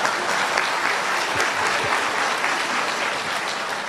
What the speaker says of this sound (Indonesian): Wah, tepuk tangan tuh suhu